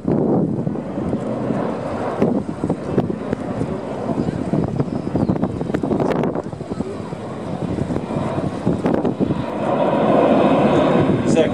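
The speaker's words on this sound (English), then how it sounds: "Those powerful turboprops in production help to give this remarkable aircraft this versatility" An Airbus A400M turboprop military transport flies its display at the Farnborough Air Show, a distant rumbling propeller roar that swells and fades under gusty wind noise, with an announcer talking throughout.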